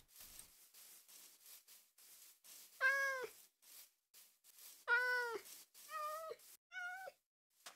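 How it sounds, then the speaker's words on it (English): Cat meowing in Minecraft, four distinct meows spaced about two seconds apart, clear and fairly loud against a quiet background with faint game ambience. "Don't run, cat."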